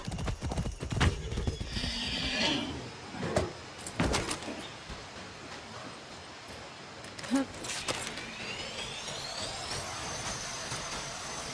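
Horse hooves clip-clopping in the Far Cry 6 video game, a steady trot under ambient game sound, with a few sharper knocks and brief speech.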